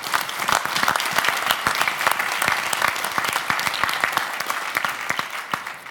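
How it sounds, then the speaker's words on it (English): Sustained applause from a conference audience thanking the organisers of a week-long resilience event, a steady dense patter of many hands clapping throughout with no speech over it. "So please do join me in giving them a round of applause to everyone who has made this week a success."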